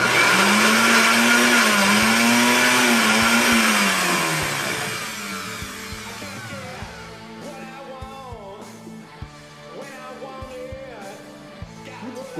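A kitchen blender whirs loudly while blending sapote, its motor pitch wobbling as the load shifts, then winding down into quieter clunks and rattles of the jar toward the end.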